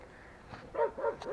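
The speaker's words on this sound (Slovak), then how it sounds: "A tu na nás kričí pes, neviem prečo." A dog barks a few times nearby over a steady background hiss, the yaps coming in a quick uneven cluster at moderate loudness.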